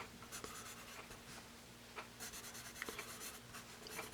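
Pencil scratching across paper, a Dixon Ticonderoga Laddie 2HB with a soft, bold, worn-down point, in steady close strokes with soft rubbing bursts and no voices.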